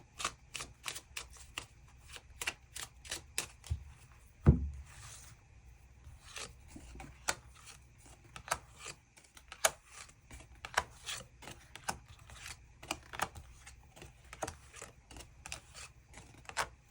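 Tarot cards shuffled and drawn by hand at close range: a steady run of crisp riffling and snapping card flicks, with one sharper tap partway through, under a quiet room with no talk.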